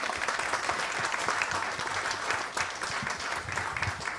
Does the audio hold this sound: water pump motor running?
no